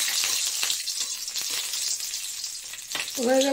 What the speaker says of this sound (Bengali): এই তেলের মধ্যে গোটা রসুন দিয়ে দেবো